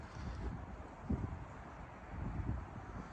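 Wind buffets the microphone with a low, rumbling roar that gusts unevenly, with a couple of brief thumps.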